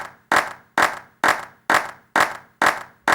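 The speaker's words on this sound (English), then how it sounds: "this is the clap in stereo straight out of the sample pack" A sample-pack clap, right channel isolated, fires seven times at a brisk, even pace. Each hit is bright and snappy with a brief fading tail and no talking.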